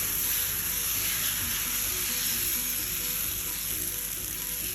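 Green gram (pachai payaru) dosa batter sizzles on a hot tawa with a steady, close, loud hiss and crackle that holds unbroken throughout, with no voices.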